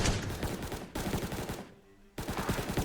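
Rapid automatic gunfire in a first-person shooter video game during a headshot kill, loud dense bursts of shots with a brief gap before firing resumes.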